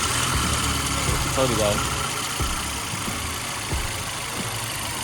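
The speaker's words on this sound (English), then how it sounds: "That's how the car's gonna sound." A car engine idles steadily in the background, a low rumbling hum with a few faint knocks, while people talk over it nearby.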